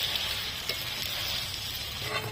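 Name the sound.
chicken with potatoes and fenugreek leaves cooking in a covered pan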